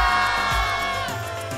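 A loud French crowd roars and cheers continuously at an Olympic archery final in Paris, sustained whistles and shouts filling the space.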